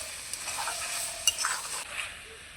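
Garam masala stirred into a vegetarian curry of shola kochu, paneer, chickpeas and jackfruit seeds in a hot pan: a close, steady sizzle with a few scraping stirs over about two and a half seconds, no voices.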